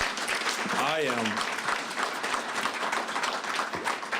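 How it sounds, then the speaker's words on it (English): Dense applause from a crowd at a sustainability in the supply chain panel fills the whole stretch, with a voice briefly audible near the start. "let's give these guys a round of applause here."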